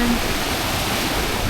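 A river current flows near the Cagsawa trail, giving a loud, steady rushing wash that fills the short moment without a break.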